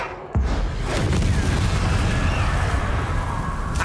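The Descendo spell cast in the video game Hogwarts Legacy lands with a sudden heavy boom, followed by a loud, sustained rumbling roar that fills the rest of the moment, without any speech.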